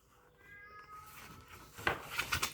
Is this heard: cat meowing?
yes